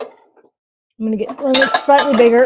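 Pots and pans clank and clatter loudly in a home kitchen as a cook swaps a small pot for a slightly bigger one, metallic clinks in quick bursts mixed with someone talking.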